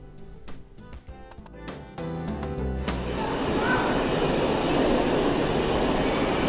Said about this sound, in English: This is Loco 709, New South Wales Government Railways